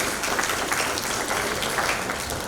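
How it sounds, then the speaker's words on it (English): Audience applause for a panel at an academic startup event, loud, close and dense clapping from a large crowd, sustained evenly without any talking. "Let's have a big round of applause for our panelists."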